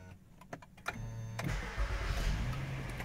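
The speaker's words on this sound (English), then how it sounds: "When I start the car," An Acura MDX starts up with a brief cranking whir, then the engine catches and settles into a steady low idle rumble, close and fairly quiet, with no speech.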